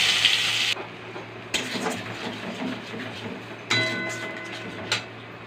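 Onion paste fries in hot oil in a wok with cumin, making a steady close sizzle broken by a few sharp bursts and scraping stirs, along with a low hum in the background.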